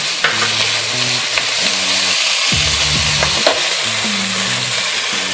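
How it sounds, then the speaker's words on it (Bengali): Chopped tomato goes into half-fried onions in a pan for a potato masala. A loud, steady sizzle runs throughout, broken by repeated scraping stirring strokes. "পেঁয়াজ আধ ভাজা হয়ে গেছে। এবার আমি দিয়ে দিলাম টমেটো কুচি"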